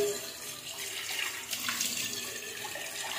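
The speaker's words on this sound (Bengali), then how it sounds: "তো আবার ধুয়ে দিব পাতাগুলোকে।" Tap water runs steadily over freshly picked tulsi leaves being washed a second time at a sink, a continuous close hiss and splash with no talk.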